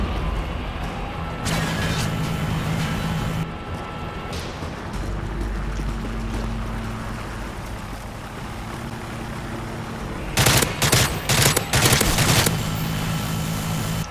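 Gunfire aimed at a helicopter in Call of Duty MW3 survival mode, loud bursts of automatic shots with a dense flurry near the end over a continuous engine rumble.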